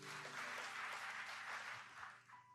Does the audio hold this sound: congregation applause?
yes